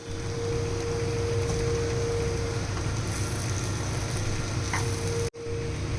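Paneer cubes sizzle and get stirred in a pan of cooked quinoa, producing a steady, even frying hiss that ends in a brief drop.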